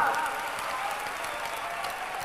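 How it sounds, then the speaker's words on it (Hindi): Audience clapping at a Hindu religious gathering, a steady, dense patter of applause that runs evenly throughout and carries a faint murmur of voices underneath. "ताली बजा करके हौसला बढ़ाओ।"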